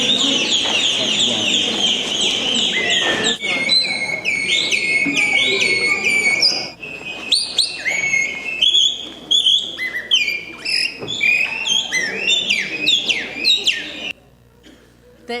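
A person whistles a continuous run of bird-call imitations for about fourteen seconds: close, bright trills, warbles and sweeping chirps, busy and fairly loud. A short lower tail follows at the end.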